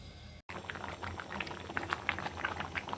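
A pot of bhuna khichuri boils on the stove, giving a soft, steady bubbling with quick little pops and bursts. It is faint and heard alone after a brief gap at the start.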